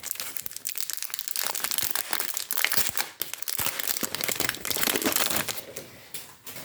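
Continuous loud crinkling and crumpling of plastic packaging as a heavily wrapped Temu parcel is opened by hand, close up, with tearing rustles and no pauses.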